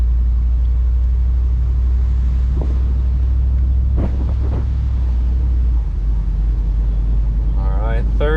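A Jeep Wrangler with a swapped-in 6.4 Hemi engine pulls along in second gear, giving a steady, heavy low rumble mixed with wind buffeting and a few brief knocks.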